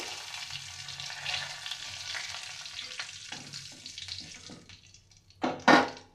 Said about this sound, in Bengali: একে একে আমি ফোড়নগুলো ছেড়ে দিলাম তেজপাতা জিরে